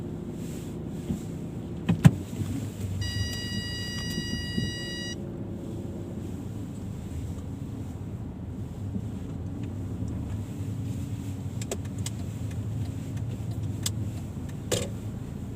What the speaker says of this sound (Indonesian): Berisik banget ini mobil.